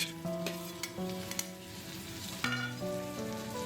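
Sautéed onion sizzles softly in a pan as tomato and carrot are stirred in, with gentle scraping and stirring over quiet background music and no talking.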